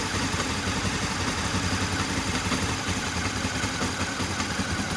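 A Honda CB500 motorcycle engine idles steadily at about 1500 RPM after a carburetor sync, giving an even, continuous mechanical hum with light clatter and no voices.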